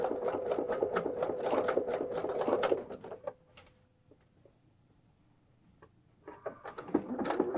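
Sewing machine stitching thread over fold-over elastic binding, a steady rapid mechanical whir for about three seconds, a brief near-quiet pause with faint clicks, then the motor starts again in short close bursts.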